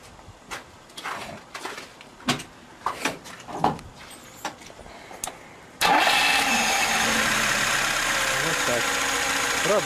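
A car fitted with a new idle fuel-cutoff solenoid valve system is started. Scattered clicks and knocks come first, then the engine catches abruptly and settles into a loud, steady idle, with voices in the background.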